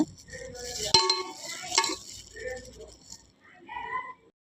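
Soft rattling and stirring as ground roasted gram is mixed into a mixture for Burmese atho, with brief knocks and scrapes and a voice speaking nearby.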